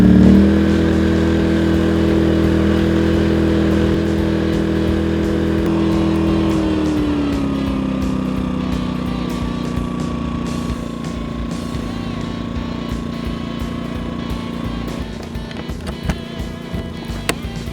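A Yamaha EF2200iS portable inverter generator runs steadily with a droning hum, its pitch dropping slightly as it settles, loud and close.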